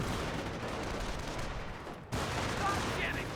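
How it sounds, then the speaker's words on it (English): Gunfire in Company of Heroes 1 strikes German Grenadiers during a US versus Panzer Elite match, a dense, continuous rattle of shots with battle noise that briefly dips before surging back loud. "Grenadiers take a bit of fire right here."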